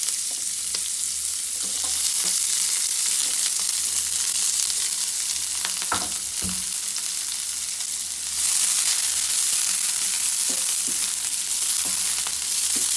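Curry leaves, onion and split green chili fry in hot oil for a radish sambar, a loud continuous sizzle with intermittent spoon scrapes and a swell in intensity near the end, heard close with no voices.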